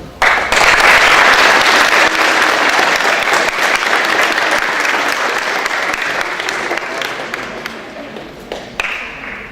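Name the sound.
audience applause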